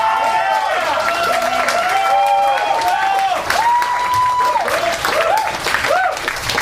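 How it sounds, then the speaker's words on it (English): A comedy club audience applauds and cheers loudly and steadily, with whoops and voices over dense clapping that carries on throughout. "How about a big hand for Marshall Kious,"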